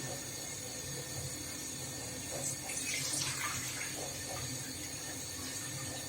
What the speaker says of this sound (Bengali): এখন আমি পাতিলে কড়াইয়ের মধ্যে পানি দিয়ে দিচ্ছি।